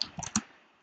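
Computer keyboard typing, a short burst of three or four quiet, close clicking keystrokes followed by near silence.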